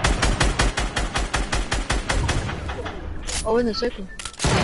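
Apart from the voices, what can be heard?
gunfire in a PS4 video game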